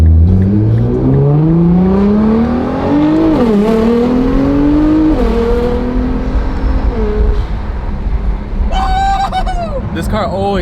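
A Nissan GT-R sports car engine revs and climbs through gears while driving, its loud, close drone rising in pitch, dipping at a shift, then rising again before settling, with a brief higher whine near the end.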